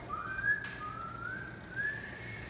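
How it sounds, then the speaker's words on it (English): A person whistles a wavering, sustained tone that rises and falls in pitch, fairly close and clear, with no talking over it. "It took me a while to learn how to whistle too, but then once I got it, I can blow in or out."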